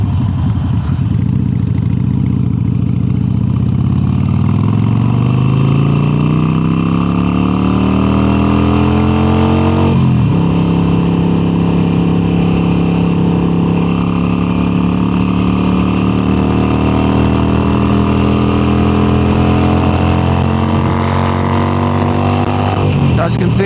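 Harley-Davidson Sportster 883 with an upgraded exhaust riding on an open road, its engine droning steadily as revs climb through a gear, a brief dip at a shift, then rising again loud and close with wind noise throughout.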